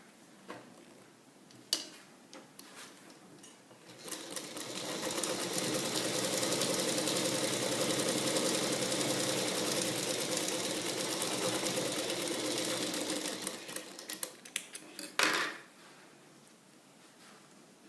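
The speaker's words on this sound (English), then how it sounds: "stitch along the center front line" A sewing machine stitches a fabric seam along a garment's center front line, starting with a few scattered clicks, then running in a sustained rapid mechanical whir for about ten seconds before slowing with a few final taps and stopping.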